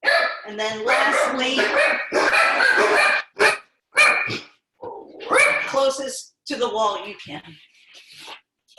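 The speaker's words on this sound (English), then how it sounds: "Sorry about my dogs." Dogs bark in a home during a live fitness class on wall walks, the barks mixed in with a steady instructing voice that talks through most of the stretch.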